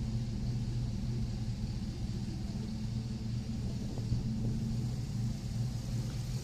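A 2009 Jeep Liberty fitted with a swapped LS V8 is driven on the road during tuning, giving a steady low engine drone and road rumble from inside the cabin, fairly quiet and even throughout with no talk.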